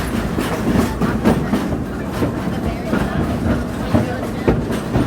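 Amusement park ride train rolling along its track with steady rhythmic clatter, close and fairly loud, running continuously under a voice talking.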